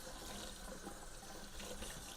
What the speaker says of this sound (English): Now what we want to do is wet that thoroughly in running water, get it saturated